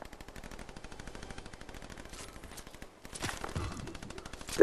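Rapid automatic gunfire in a shooter video game, a steady fast burst of shots rattling on for several seconds, then a louder, denser volley near the end with no voices over it.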